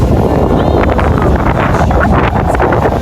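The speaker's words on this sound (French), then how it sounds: "Il y a du vent" Strong wind at a seaside spot in the Philippines buffets the microphone with a constant loud roar and rumble, with faint surf or water noise underneath.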